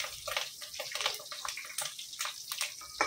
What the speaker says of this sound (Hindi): करी पत्ता डालते टाइम अपना चेहरा पीछे करने का, नहीं तो कितना आम से उड़ेगा